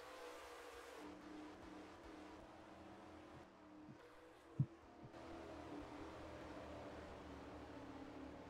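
Race cars and a pace car drive in the NASCAR Racing 2003 video game at Michigan International Speedway, producing a steady, fairly faint engine drone with one brief sharp knock near the middle.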